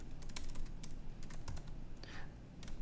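Someone types a spreadsheet sheet name on a computer keyboard, faint irregular key taps in a quick short burst against a quiet room background.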